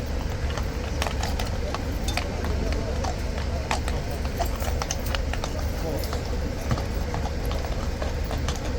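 A King's horse clip-clops steadily on hard ground among a dense crowd of onlookers, the hooves sharp and fairly close amid constant chatter and crowd noise.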